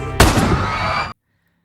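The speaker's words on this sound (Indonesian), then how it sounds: "Dengan cepat Miguel pun melesatkan tembakan ke arah kamera" A single loud gunshot fired at a camera in an action film, a sharp close blast followed by a dense ringing burst that cuts off abruptly into silence.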